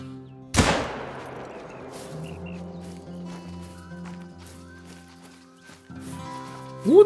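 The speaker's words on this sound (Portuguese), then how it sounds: "Vou dar um tiro." A single sharp rifle shot cracks out while hunting kangaroo in the video game The Hunter: Call of the Wild, its loud report echoing and decaying over several seconds, followed by faint ambience and a brief noise at the end.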